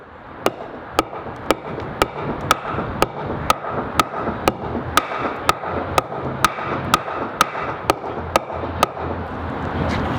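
A hammer taps out a cutless bearing on an old 50-foot catamaran, striking sharp metallic blows at a steady rhythm of roughly two per second, close and loud over faint background noise.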